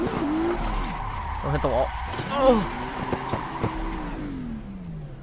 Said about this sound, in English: We're just gonna run some jump drifts